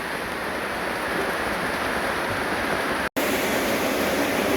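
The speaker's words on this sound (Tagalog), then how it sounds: "Sobrang lakas na ng ulan." Heavy rain pouring down outside a shop in a storm, a dense steady roaring hiss of water, loud and continuous with one brief cutout.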